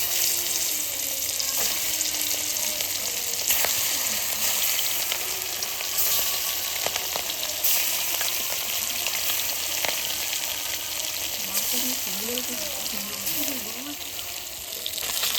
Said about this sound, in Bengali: নুন হলুদ মাখিয়ে মাছটা ভেজে নেব